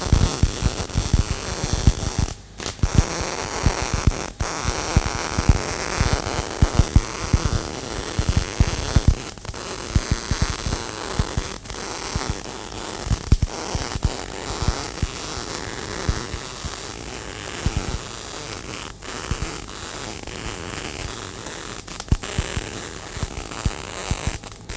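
A MIG welder runs a vertical uphill bead on steel plate, a steady loud crackling hiss that continues almost unbroken, with a few brief gaps where the arc stops.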